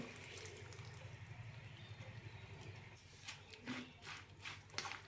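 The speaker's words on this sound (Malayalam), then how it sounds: "കഷ്ണങ്ങൾ വേവാൻ ഒരു കപ്പ് വെള്ളം ഒഴിക്കാം" Water running steadily into a cooking pot of pineapple curry, a close continuous gurgle that thins out and turns into a few splashes and knocks toward the end.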